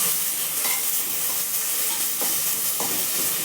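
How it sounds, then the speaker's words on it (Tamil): Mint and coriander sauté in a pan for biryani, giving a loud, close hiss and crackle with a few stirring scrapes over the constant sizzle; no talking. "புதினா கொத்தமல்லி போட்டுட்டு வதக்கி விட்டுக்கலாம்"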